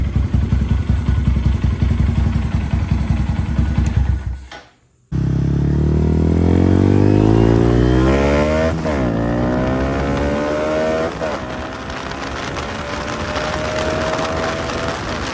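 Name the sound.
Honda Grom motorcycle engine with aftermarket cam running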